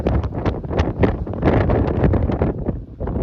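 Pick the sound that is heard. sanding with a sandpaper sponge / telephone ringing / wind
wind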